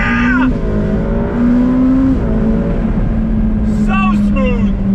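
A 2020 Ferrari F8 Tributo Spider accelerates on throttle with the top down. Its loud, rising engine note climbs and shifts under an excited voice, with a brief high squeal near the end.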